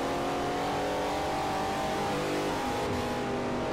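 Jaguar E-Type engine in Forza Motorsport 4, fitted with a roll cage and slick tyres, revving steadily in a loud, sustained drone with clear rising and falling harmonics throughout, no voices.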